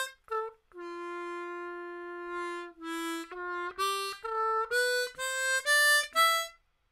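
Diatonic harmonica in C playing the last two lines of a song, a clear solo melody of held and shorter reedy notes rising toward the end, close and alone.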